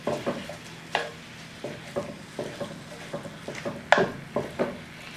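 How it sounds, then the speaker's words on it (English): A spoon scrapes and clinks against a pan while shepherd's pie ingredients, ground beef and sausage, are mixed together, in an irregular rhythm of close, moderate knocks and scrapes with faint sizzling. "You just kind of want to mix it together."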